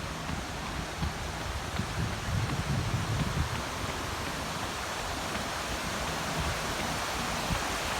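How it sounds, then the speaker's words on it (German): Waterfall in Falls Park in downtown Greenville, a steady broadband rush of falling water heard from nearby, even and continuous with no voices. "Hinter mir sieht man den Wasserfall."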